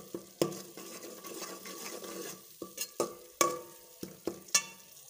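Food fries in ghee in a pan while a utensil stirs and scrapes it, with repeated close clatters and knocks over a soft continuous sizzle, in home cooking of a pumpkin curry.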